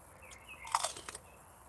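A single crisp bite into a fresh-picked strawberry with a short burst of crunching, close and fairly quiet, over faint outdoor garden background with a bird chirping.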